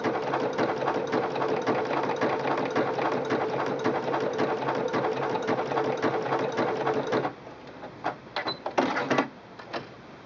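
A Singer Quantum Stylist 9960 sewing machine sews an overcast stitch with an overcasting foot. It gives a fast, steady mechanical whir and rattle for several seconds, then slows to a few separate stitching bursts.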